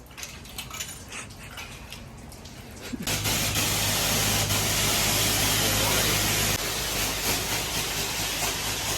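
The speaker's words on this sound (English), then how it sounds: "You gotta let it, just keep spraying it." A pressure spray of cleaner hisses steadily across a Lexus during a hand car wash, starting abruptly partway through and running loud and continuous, with men chatting before it begins.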